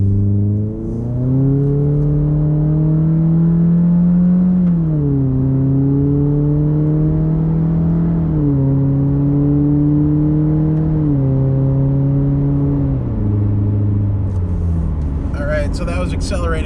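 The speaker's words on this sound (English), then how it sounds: "So that was accelerating up to 70 from a dead stop, fairly hard" A 2019 Subaru Crosstrek with a Nameless muffler delete accelerates hard from a stop to 70 mph, its droning engine note climbing steadily and dropping at each gear shift, loud and close inside the cabin.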